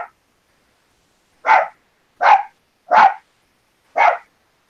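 A dog barks indoors, four sharp single barks spaced about a second apart after a short opening yelp, loud and close with silence between.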